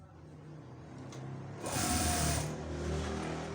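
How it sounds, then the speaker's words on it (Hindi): A sewing machine stitching a child's shalwar runs in a steady close mechanical whir, growing louder and faster partway through, with no voices. "हमने इसे कर दिया सिलाई"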